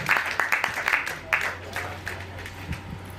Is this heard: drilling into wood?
no